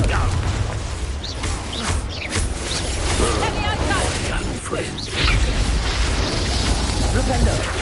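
Rapid Confringo blasting spells in Hogwarts Legacy combat: repeated loud explosive bursts and crackling impacts mixed with other spell effects, a continuous dense barrage with a heavier boom near the end.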